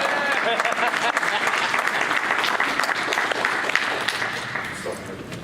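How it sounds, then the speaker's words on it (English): Sustained audience applause at a patient and caregiver conference in Lansing, steady and dense throughout as a speaker is welcomed and walks up, with a few cheers and voices mixed into the crowd. "Keep applauding, he's walking slow."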